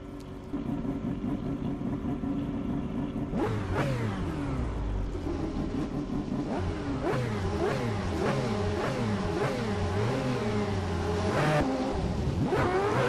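Group C race cars lapping Mugello in a racing video game, the engines roaring loudly and continuously and rising in pitch through repeated upshifts, with bursts of acceleration and no talking.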